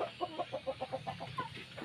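Native chickens clucking busily at close range while being fed dry feed, a quick series of short, soft clucks and chirps in an irregular rhythm, with no talk over them.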